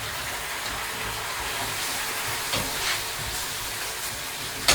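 Aubergine hitting a hot wok in a Thai pork chili paste stir fry gives a steady, close sizzle and hiss throughout, with a few louder spits and crackles near the end.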